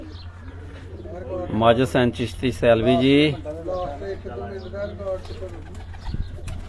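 Racing pigeons at a Punjab loft coo in a steady, close-by murmur while someone talks loudly over them.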